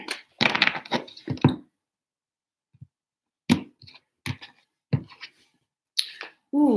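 Quick bursts of tarot cards riffling and slapping together, several short shuffles separated by pauses, close and fairly loud.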